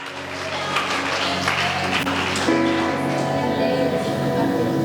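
A church congregation claps together, a dense wash of applause that swells partway through and runs beneath voices and sustained tones.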